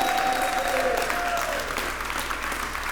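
An audience at a community center ribbon-cutting ceremony claps for the West Side Whippers, producing dense, sustained applause that fills the room and slowly tapers, with a faint voice briefly heard at the start.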